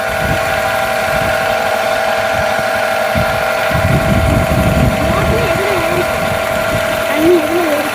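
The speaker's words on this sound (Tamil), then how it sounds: "ஒரு கம்ப்ரஸர் மோட்டர் போட்டிருக்கிறீங்களா ஓடிக்கிட்டு இருக்கு" A steady compressor motor pumping water through pipes on a farm hums and drones continuously, with a constant tonal whine, while people talk over it.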